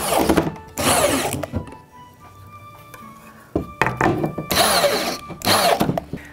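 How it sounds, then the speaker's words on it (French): Power drill driving screws to join wooden pieces, several short loud whirring bursts separated by brief pauses and light handling clatter, close by with no talk. "On va maintenant replacer la structure pour visser les pièces ensemble."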